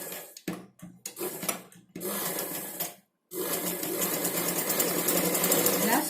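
Sewing machine stitching blouse cloth, starting with short stop-start bursts of stitching, then a pause, then a long steady run of fast mechanical whirring close up, with faint talk early on.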